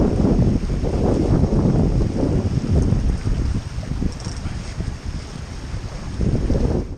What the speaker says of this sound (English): We've got enough wind to make it fun